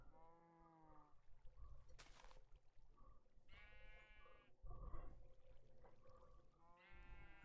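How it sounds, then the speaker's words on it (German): Minecraft sheep bleat with repeated wavering, nasal calls in short bursts at an even pace, fairly quiet, over low background game noise and no talking. "Ein Schaf, zwei Kühe."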